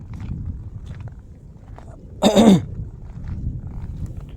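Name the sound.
cough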